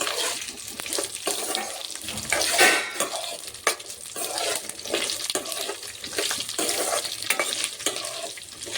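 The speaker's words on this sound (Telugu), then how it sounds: "పచ్చిమిర్చి అయితే బాగా వేయించాలండి" Green chillies sizzle and crackle in hot oil nearby, with a steady hiss and repeated scraping and clinking as they are stirred, frying for a tamarind chutney.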